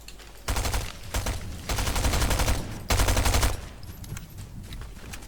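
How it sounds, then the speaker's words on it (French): Pump shotgun fire in the Fortnite video game, heard as several loud, dense bursts of gunfire separated by short gaps, with no talking. "Oh, très bon fusil à pompe ça."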